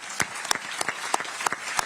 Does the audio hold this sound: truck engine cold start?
no